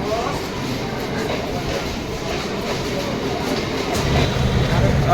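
Metro train at Bidhan Nagar station in Kolkata, a steady broadband rumble of rolling carriages that swells slightly toward the end, with faint voices in the background.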